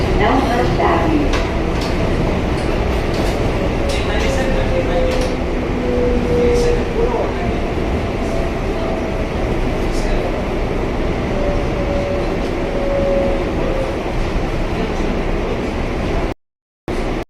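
A New York subway train rumbles steadily at 90th Street-Elmhurst Avenue, with a continuous loud roar, rail hum and faint squeals, while a station announcement voice speaks over it, ending with a brief dropout.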